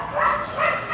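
A dog gives a short, close, loud vocalization, a brief bark or yip that rises and falls over about a second, with no talk over it.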